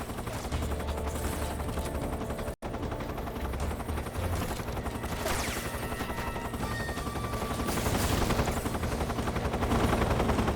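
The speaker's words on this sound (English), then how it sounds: "Listening to the loud helicopter just in my right ear this whole time." Loud, steady helicopter rotor roar in Metal Gear Solid 3, continuous and dense throughout, swelling slightly louder near the end, with a brief dropout partway through.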